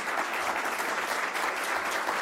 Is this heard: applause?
yes